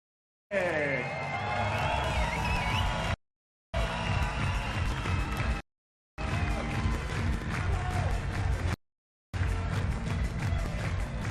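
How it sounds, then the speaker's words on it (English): An arena crowd at the 2021 Hungarian Darts Trophy applauds and cheers a host-nation qualifier, a steady roar of clapping and shouts broken by several short silent gaps. "one more round of applause for your host nation qualifier, Peter Sturbeck"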